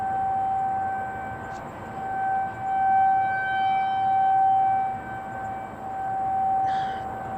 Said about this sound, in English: what you're hearing right now is you're hearing outdoor warning sirens